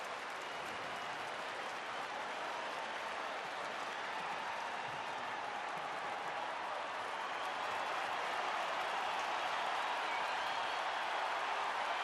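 A big crowd at a Dodgers–Angels baseball game claps and cheers on its feet, a dense, sustained roar of applause heard from a distance throughout.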